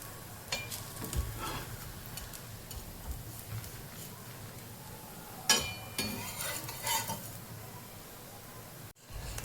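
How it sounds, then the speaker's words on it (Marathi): A ghavan rice pancake cooking on a pan as it is flipped, a faint steady sizzle with occasional utensil clinks and scrapes, a couple of louder spatula knocks, no talking. "आता हा घवणं आपल्याला असा पलटी मारून घ्यायचा आहे"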